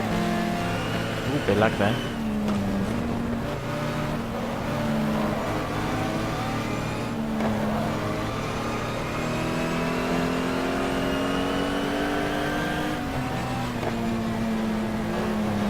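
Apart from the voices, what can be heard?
racing cars passing in GTR2 video game, Nissan and Porsche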